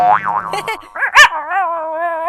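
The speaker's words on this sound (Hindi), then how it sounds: "तुम्हारे घर में कुत्ता है?" A cartoon dog barks close and loud, with a couple of quick yips and a boing-like springy tone among sustained whistling tones.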